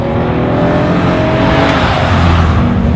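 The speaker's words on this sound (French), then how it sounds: "je jette la voiture dans un sens pour la ramener dans l'autre. Ça amplifie la dérive" A BMW M3 E46 drifting through a turn on a track, its engine loud and sustained at high revs with a steady roar and faint tire noise throughout, no voices.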